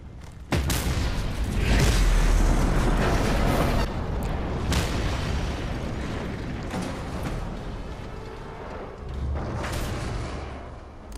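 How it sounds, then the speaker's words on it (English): A game explosion blows apart an oil pump in Mad Max, opening with a heavy booming blast that rolls into a long rumbling, creaking roar of destruction and debris, loud and sustained for several seconds. "Explosion required."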